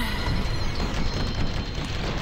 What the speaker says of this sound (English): Fiery explosions.